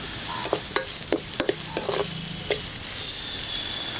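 Onions frying for mutton gravy are stirred with salt in a pan, giving a continuous sizzle with repeated light scraping and clinking strokes of a utensil, close and without talk.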